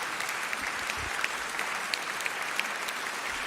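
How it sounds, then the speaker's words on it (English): An audience at a school debate competition gives a steady round of clapping. The many hands blend into an even, close wash of applause that lasts the whole stretch. "I guess a round of applause will do."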